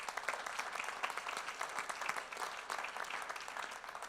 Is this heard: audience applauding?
yes